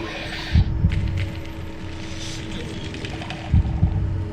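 A low double-thump heartbeat in the Minecraft Decked Out dungeon, two beats about three seconds apart, each a soft lub-dub over a steady droning hum.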